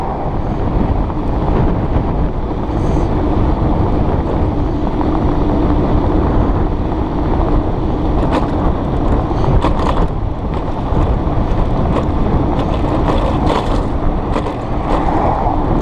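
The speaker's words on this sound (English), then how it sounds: "right now we're heading into a strong headwind" Strong headwind buffets the microphone with a constant heavy roar while riding an e-scooter, gusting unevenly, with faint road noise beneath and no voices.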